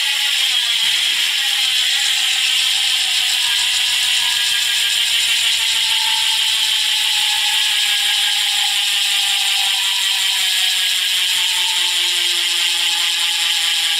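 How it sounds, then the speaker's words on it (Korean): A sharp, rapid ratchet clicking from an Engine11 Mark One DCC edition bicycle wheel hub, a steady dense buzz that runs loud and close for the whole stretch without any talk. "굉장히 좀 날카로운 라쳇 사운드가 좀 났고"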